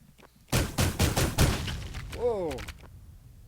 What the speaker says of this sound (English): So then I can do stuff like, oh, set the explosion to, I don't know, bigger.